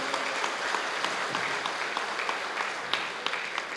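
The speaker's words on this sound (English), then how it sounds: "Give them a big round of applause, okay?" An audience at a Rotary district speech event applauds, a dense, steady wash of many hands clapping with sharper individual claps popping out now and then, continuing across the whole stretch with no voices on top.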